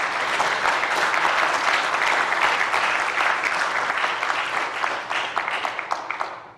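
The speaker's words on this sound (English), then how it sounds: "I would ask if I could have a round of applause for Jennifer" A round of applause from attendees at a hybrid public policy meeting, dense steady clapping for several seconds that thins into scattered individual claps before stopping.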